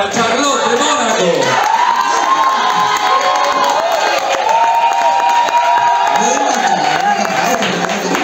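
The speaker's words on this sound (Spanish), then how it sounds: "Y fuerte los aplausos para Charlotte de Mónaco." A crowd at a televised drag queen casting contest cheers loudly for a contestant, with shrill shouts, whoops and some clapping. The roar holds steady and close for the full stretch without letting up.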